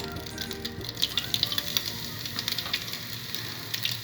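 Ginger sizzles gently in hot oil in a pan for a beef stir-fry, a faint, continuous crackle with scattered small pops.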